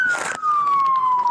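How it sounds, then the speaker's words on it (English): Police car sirens wail at a street scene in Long Beach, California, a loud continuous tone sliding slowly downward, close by, with a burst of noisy rumble at the start. "go shut those sirens off"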